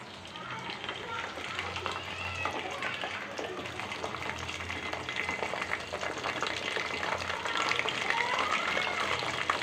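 Herb leaves frying in hair oil for a homemade herbal hair oil, giving a steady, close hiss and crackle that continues throughout while someone talks.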